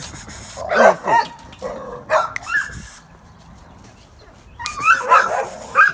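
A dog in a kennel yard barking and whimpering close by in short excited bursts, a quiet gap midway, then a fresh cluster of yips and whines.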